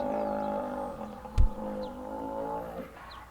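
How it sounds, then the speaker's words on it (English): A low, rumbling alligator bellow drones steadily with a brief deep thump partway through, fairly distant and outdoors on a nature trail. "I guess those are some alligator noises going on there, too."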